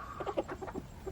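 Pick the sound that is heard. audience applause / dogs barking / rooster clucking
rooster clucking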